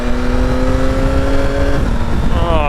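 A Yamaha Tracer 9 GT triple-cylinder motorcycle engine revs up close and loud, its tone rising and falling steadily over a constant rumble.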